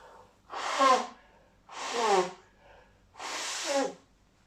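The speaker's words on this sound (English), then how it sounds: "Just need to blow my nose." Three forceful, hissing nose blows, each about a second long, evenly spaced with short pauses between, close to the microphone.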